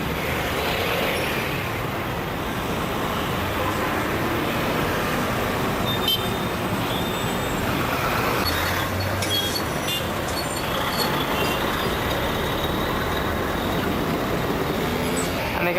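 Street traffic in Naples, Italy: a steady, dense roar of passing cars, buses and trucks. It holds throughout without pause, with occasional louder vehicles rising briefly above the wash.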